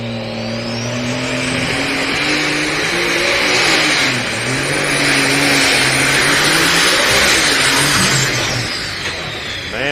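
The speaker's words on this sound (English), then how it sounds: "Man, that tractor just does not want to cooperate for Adam here." A pulling tractor's engine revving hard at a tractor pull at the Stark County Fair in Canton, Ohio, a loud close roar with rising and falling pitch and a high whine above it, sustained throughout.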